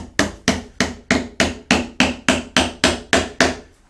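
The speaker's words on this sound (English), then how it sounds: "And then I've got a nail that I'll just tap in" A hammer taps a nail into a wooden zero-clearance table saw insert held in a vise, striking about eleven sharp, evenly spaced blows that ring close and loud, with no voices.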